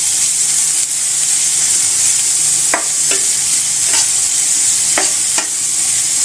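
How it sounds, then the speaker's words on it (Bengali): Onions fry in a pan for kalojira bharta with a loud, constant hiss, and a few soft scrapes of stirring come through. "আগে আমি পেঁয়াজটা ভেজে নেব।"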